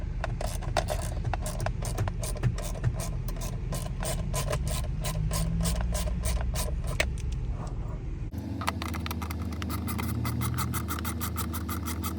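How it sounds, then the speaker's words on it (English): Plastic trim cover being pried and popped off a GMC Sierra steering column while working on a faulty windshield wiper switch: close, steady scraping and rubbing with dense clicks and snaps, changing character partway through, with no talk. "I'm gonna pop this cover out."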